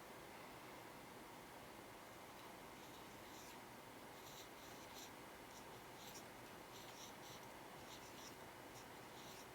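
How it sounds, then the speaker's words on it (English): Writing on paper during a Singapore Math place value lesson: a faint, continuous scratchy rustle of strokes runs steadily throughout with no talking. "I'm going to write mine"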